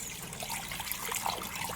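Water drains and trickles out of a mushroom tank, a soft, continuous splashing dribble with small bubbling accents, fairly quiet and close, with no talking.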